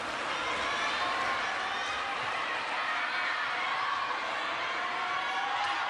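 Crowd at a WTT Champions Yokohama table tennis match reacting with a sustained, dense wash of chatter, murmurs and scattered cheers, filling the hall evenly from start to finish.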